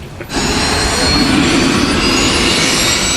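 The Proteus research aircraft climbing in flight gives a loud, steady jet engine roar that swells in within the first moment and then holds broad and constant throughout.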